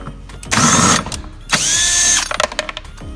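Two bursts of a power drill whirring as it removes a screw on a 50cc moped, each about half a second, with short mechanical clicks and rattles between and after them.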